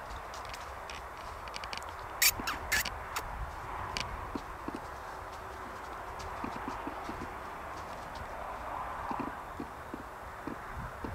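A horse walks through a field at night, its hooves clip-clopping in an uneven series of soft thuds and a few sharper knocks, fairly distant over quiet background hiss.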